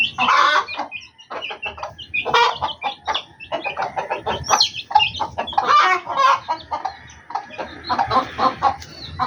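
A mother hen and two chicks cluck up close in busy bursts of clucking and soft calls that overlap and fill the stretch with brief pauses between.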